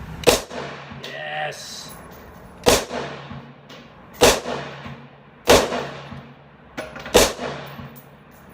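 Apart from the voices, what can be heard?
Ruger Mini-14 rifle firing rounds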